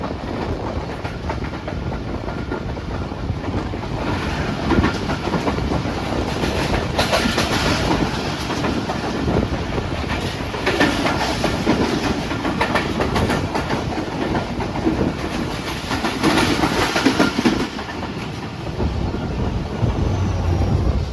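The Pak Business Express (33UP) overtakes the Millat Express at a railway station on the Karachi to Lahore line. Loud, steady rumble and rhythmic wheel clatter go on without a break for about twenty seconds, with no talking.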